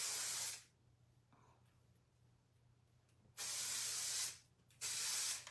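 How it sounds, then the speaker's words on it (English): Trois Chic 3-way hairspray by Lunge is sprayed onto hair in close, loud hissing blasts: one long spray, a pause, then two more bursts near the end. "going in with little Trois Chic 3-way hairspray by Lunge"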